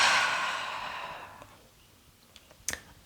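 Yoga instructor lets out a big, long exhale that fades over about a second and a half, close to the microphone, followed by a few faint clicks and soft movement sounds.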